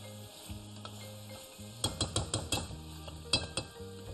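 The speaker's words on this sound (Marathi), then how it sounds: "परत एकदा चांगलं परतून घेऊया." Chicken being sautéed and stirred in a pan on a home stove, a spoon scraping and clinking against the metal in a quick irregular run of knocks over a low steady sizzle, close and moderately loud with no talking.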